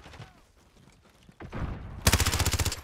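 Soldiers open up with rapid automatic gunfire in Call of Duty: Modern Warfare; quiet crackling gives way to a loud burst at about 1.4 seconds, then a steady rattling stream of evenly spaced shots to the end, with no talk.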